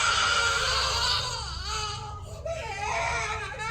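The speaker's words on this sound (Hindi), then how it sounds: "वीडियो से एक छोटे बच्चे के रोने की आवाज आने लगी।" A small child crying from a video playback in a tense horror setting, a continuous wailing cry filling the clip at moderate loudness with wavering pitch and no other voices.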